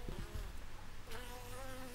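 Honeybees buzzing around a beehive during a hive treatment, a steady close insect drone with several wavering tones lasting throughout, with no talking.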